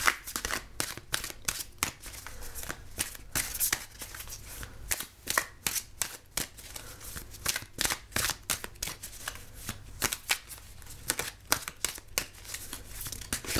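Tarot cards being shuffled and falling, a close, rapid run of crisp papery flicks and slaps in irregular bursts, with no talk.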